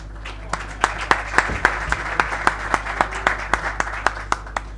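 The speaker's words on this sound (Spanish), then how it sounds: "Un fuerte aplauso para Cristian." A small audience claps for a speaker at an agricultural talk on service crops and water scarcity, individual claps distinct and fairly regular, close and moderate, over a steady low hum.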